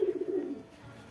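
A single pet pigeon gives a short, low rolling coo close at hand, then fades to quiet room background; no one speaks.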